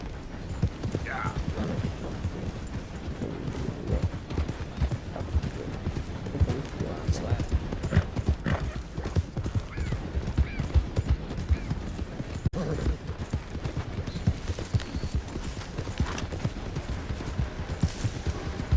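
In Red Dead Redemption 2, a horse's hooves clip-clop in a steady rhythm on the ground, continuous and moderately close, with someone talking over it.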